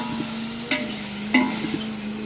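Country chicken frying with onions in a pot over a wood-fired stove, a steady close sizzle broken by two short scraping stirs.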